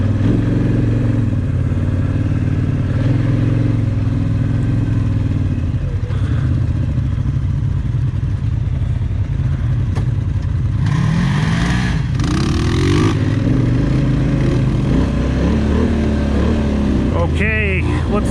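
A Polaris RZR side-by-side roars past on a hilly trail, its engine rising and falling against the steady rumble of a nearby idling ATV, with a rider's voice talking over the noise.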